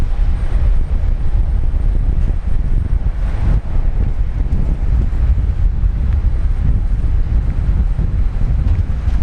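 A Qantas Boeing 737-400 classic airliner on its final takeoff from Brisbane Airport, a loud, sustained low engine roar with wind buffeting the microphone, heard from a distance with no talk.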